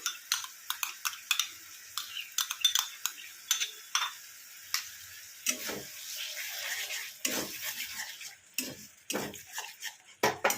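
Yogurt being stirred into chicken pulao in a pot produces irregular close scraping and light clinks of a spoon against metal, with softer rubbing in between, continuing throughout.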